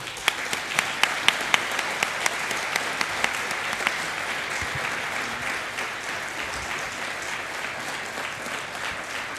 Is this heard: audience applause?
yes